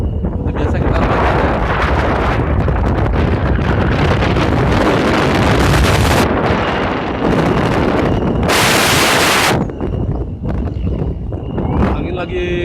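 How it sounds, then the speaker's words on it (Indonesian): Strong wind roars and buffets the microphone at the top of a 75 m signal tower in worsening weather, loud and continuous, with someone talking under the gusts. "angin lagi kencang-kencangnya guys"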